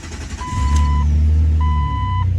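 A 2006 Jeep Wrangler LJ/TJ engine cranks and settles into a steady, close, low idle rumble. Two long electronic beeps from a backup sensor ring over it.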